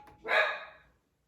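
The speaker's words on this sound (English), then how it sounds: "That's my dog." A single sharp dog bark sounds close and fairly loud indoors, lasting under a second before fading into quiet.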